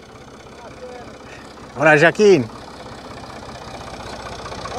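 A farm tractor fitted with a seed-sowing machine idles with a low, steady engine rumble, while a man's brief greeting rises over it partway through.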